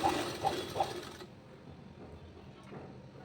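A sewing machine stitching piping onto a blouse gives three evenly spaced mechanical clacks over about a second, then falls into near silence.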